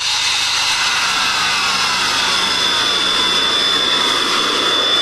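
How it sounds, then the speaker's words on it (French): Fighter jet passing over a national road in Switzerland, a loud sustained roaring whine with a gradually shifting pitch, filling the whole stretch without talk. "Un avion de chasse qui traverse une route nationale"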